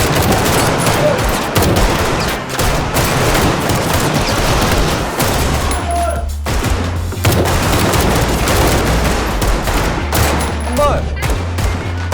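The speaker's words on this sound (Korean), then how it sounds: "학생들은 이제 실탄을 사용하기 위해 사격장으로 향하는데" Rapid live-ammunition gunfire at a shooting range in a Korean drama, with dense overlapping rifle shots and bursts crackling continuously and loudly, briefly thinning midway before resuming.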